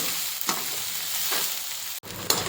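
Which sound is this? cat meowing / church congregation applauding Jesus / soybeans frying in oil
soybeans frying in oil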